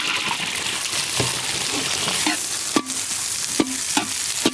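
Steady sizzling of chopped onions frying in sesame oil, with occasional stirring clinks and scrapes over the continuous crackle.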